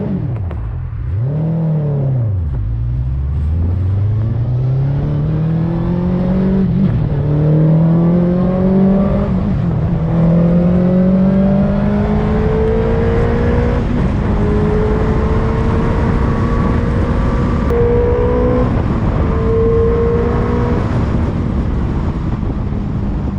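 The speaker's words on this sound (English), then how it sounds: "And then it was time for a proper test drive." A car powered by a motorcycle engine on a test drive: a loud, close engine revs up through repeated rising pitch sweeps as it accelerates through the gears, with constant road rumble beneath and no talking.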